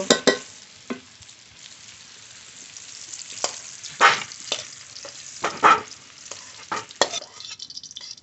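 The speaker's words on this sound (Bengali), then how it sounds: "একসঙ্গে ভেজে নেব। আলু কুমড়ো একসঙ্গে ভেজে নিয়েছি" Potatoes and pumpkin fry together in hot oil for khichuri, a steady sizzle broken by close, sharp scrapes of a spatula stirring the pan.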